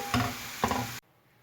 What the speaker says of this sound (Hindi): इन्हें अच्छी तरह गोल्डन होने तक फ्राई करूँगी।